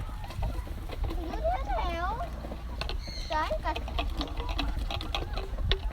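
Laying hens cluck and squawk in short rising and falling calls against a constant low rumble, with brief clicks and noises around them.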